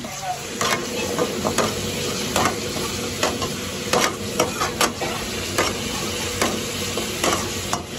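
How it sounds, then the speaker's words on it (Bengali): Lemon chicken being tossed with powdered sugar in a restaurant wok, a steady sizzle of frying broken by regular metallic clanks and scrapes of the spatula against the pan, up close and without voices. "সেই গুঁড়ো চিনিটা দিয়ে এটাকে আবার ভালো করে টস করে নেবে।"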